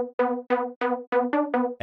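Dry supersaw trance pluck synth with no effects plays seven short, sharply cut notes in a steady rhythm, bright and buzzy with clean gaps between hits, heard alone.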